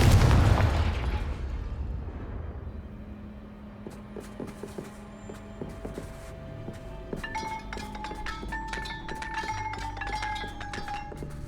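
A Confringo fire spell in the Hogwarts Legacy video game bursts with a loud opening boom, followed by crackling debris, clinks and sparkling ringing tones that linger under a low ambient hum.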